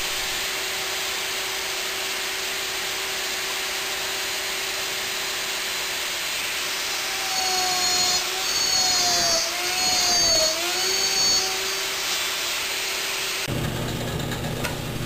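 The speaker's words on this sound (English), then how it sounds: "This gives me lots of opportunities to use my homemade slot mortising machine." A homemade slot mortising machine cuts mortises for rail joints in a wooden box build, giving a steady loud motor whine throughout that swells as it bites into the wood midway, then drops off near the end.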